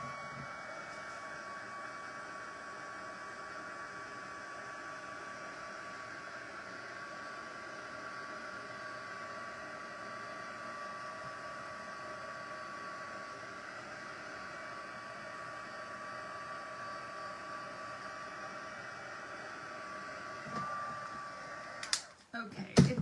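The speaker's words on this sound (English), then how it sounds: "let's do a very quick heat set to just kind of dry this" A heat gun blows a steady, loud, continuous roar while heat-setting and drying ink on a handmade Christmas card, running unbroken close by before switching off with a few handling clicks at the end.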